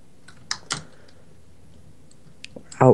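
A computer keyboard used during a Minecraft game gives a few sparse, close key clicks, then a sudden loud thump as a thumb slams hard onto it at the end.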